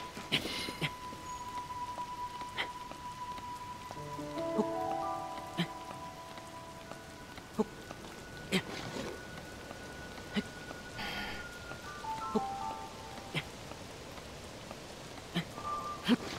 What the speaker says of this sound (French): Ça me saoule la pluie.